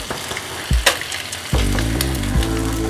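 Egg keema made from boiled eggs fries in a pan with a crackling sizzle. A few utensil knocks come first, then the frying swells into a loud, continuous hiss.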